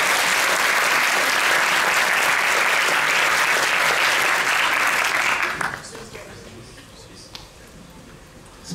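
Crowd applause at the Monaco Magic 2023 opening ceremony, several seconds of strong, steady clapping that cuts off abruptly and leaves only faint scattered claps and room noise.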